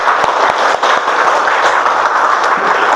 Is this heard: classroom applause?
yes